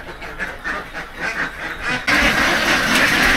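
Ducks on a hanger-type duck poultry farm quack in a busy overlapping chorus, fairly close; midway the noise jumps louder and denser, as if more of the flock joins in or a fan starts.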